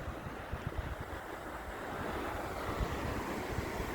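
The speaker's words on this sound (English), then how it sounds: "the water's kind of low but rushing good" The low Carson River rushes steadily over rocks, a broad hiss of flowing water with wind buffeting the microphone, heard alone with no voices.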